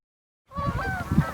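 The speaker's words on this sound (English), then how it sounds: "Canadian geese." Canada geese in Knight Inlet, British Columbia, honk repeatedly after a moment of silence, a loud overlapping chorus of nasal calls close by.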